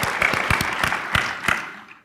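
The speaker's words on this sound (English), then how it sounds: "Round of applause for Mo." Applause from a small audience welcoming a speaker at a lightning talk event, a few distinct claps standing out over a softer spread of clapping that fades away by the end.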